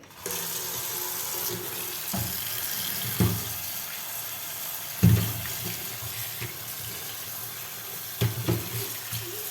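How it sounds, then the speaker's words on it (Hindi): Two home-grown lemons are washed under a running kitchen tap: a steady, close stream of water into a sink, broken by a few louder splashes and knocks as the fruit is handled. "अब चलें इनको वॉश कर लेते हैं।"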